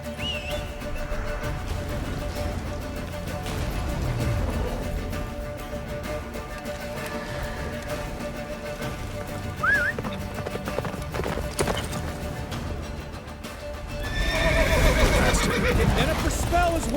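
Roach, the horse from The Witcher 3, gallops with a fast, steady hoof rhythm and neighs several times, while voices talk over the music and wind, and the hoofbeats swell louder near the end.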